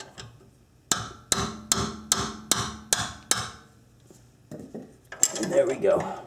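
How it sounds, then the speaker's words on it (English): A 3-pound hammer knocks loose a sway bar link on an Acura with seven evenly spaced, ringing metallic strikes, followed by a short pause and a rattling clatter of metal. "I have a 3-pound hammer just to knock this loose."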